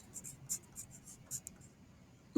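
A pen writing words on paper, with a run of soft scratchy strokes in quick bursts followed by a brief louder knock at the end, close and quiet with no talking.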